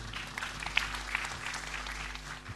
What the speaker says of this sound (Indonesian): Tepuk tangan untuk kebersamaan kita malam hari